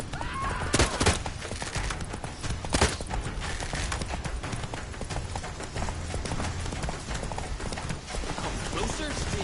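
A horse gallops in the video game The Witcher 3, with rapid, loud hoofbeats running steadily under busy game effects, a couple of heavier thuds near the start.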